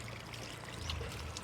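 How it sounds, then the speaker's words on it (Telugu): Water is poured steadily onto a newly planted guava sapling in a rooftop garden, making a close, continuous splashing trickle into the soil that lasts the whole moment, with no one speaking. "నీరు పోసేస్తున్నా"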